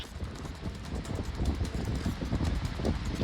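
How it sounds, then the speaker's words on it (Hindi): A strong sandstorm wind in Jaisalmer roars steadily and loudly for the whole stretch, a dense broadband rush with gusty low rumble and no voices. "तेज रफ्तार आंधी ने जैसलमेर में जनजीवन को अस्त व्यस्त कर दिया है।"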